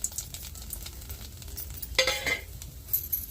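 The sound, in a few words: green chillies frying in oil in a pan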